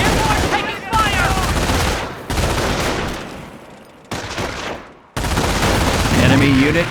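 Gunfire in the Company of Heroes strategy game comes in dense, loud bursts and rattling volleys, broken by short pauses, with battle voices mixed in.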